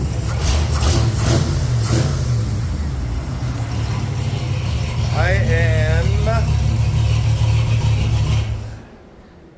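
A Ford F100 truck engine rumbles steadily at idle throughout, with a revving rise midway, while someone speaks briefly over it; the engine cuts off near the end.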